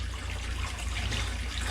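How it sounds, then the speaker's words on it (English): Water draining out of an FX6 aquarium canister filter during cleaning, a steady, close rushing and trickling flow with a low hum underneath, continuous and unbroken with no voices. "And drain the water out."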